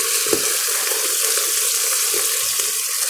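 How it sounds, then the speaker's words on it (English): Onions sautéing with Creole seasoning in a pan as it is deglazed, a loud, steady sizzle and hiss close by, with a few soft scrapes and stirring bumps breaking through. "now I'm sauteing my onions. I'm going to put some Creole seasoning on the onions. I'm deglazing the pan."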